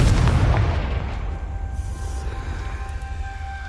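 A fire-blasting spell explodes in the video game Hogwarts Legacy: one loud, booming burst that rumbles and fades over a few seconds, heard alone with no talking.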